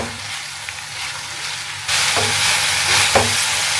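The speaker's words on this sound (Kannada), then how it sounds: "ಸ್ವಲ್ಪ ಮತ್ತೆ ಸ್ವಲ್ಪ ಮೇಲೆ ಫ್ರೈ ಮಾಡ್ತೀವಿ" Biryani masala with spinach fries in a pan, a soft sizzle that jumps to a louder, steady hiss partway through, with a couple of stirring knocks.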